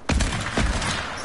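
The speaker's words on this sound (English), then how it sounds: "someone just got sniped" A sniper rifle shot in Fortnite, two sharp loud cracks in quick succession, close and alone with no talking over them.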